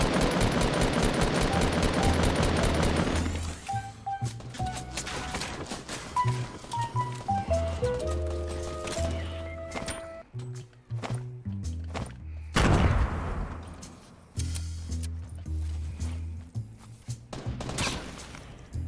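Fortnite Battle Royale on Nintendo Switch: a dense rapid burst of gunfire opens, followed by scattered single pistol-like shots and impacts mixed with game music tones and effects.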